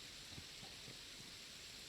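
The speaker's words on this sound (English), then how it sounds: "We got rain." Rain in the video game Satisfactory, a steady broad hiss of falling water with faint low thumps beneath, continuous and even throughout.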